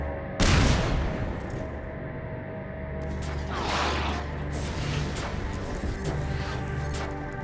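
Gun firing in Half-Life 2: Lost Coast, one sharp loud blast near the start followed by a rumbling echo and a softer crashing burst a few seconds later over a steady ambient hum.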